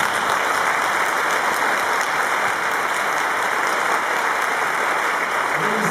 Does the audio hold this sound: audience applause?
yes